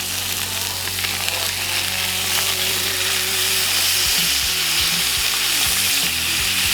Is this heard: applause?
no